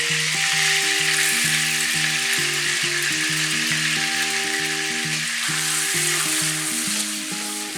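Garlic and olive butter frying in a hot pan for prawns and egg noodles, a steady broadband sizzle running throughout at close range, with no talking.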